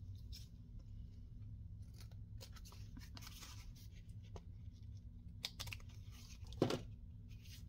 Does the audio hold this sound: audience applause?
no